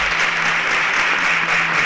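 An audience at a televised competition show applauds steadily, a dense, loud wash of clapping filling the whole moment without a break.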